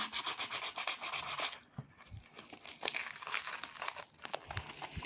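Someone works at opening a tightly packed parcel holding a Beyblade, with rapid rubbing, crinkling and tearing of packing material close to the microphone and a short pause midway.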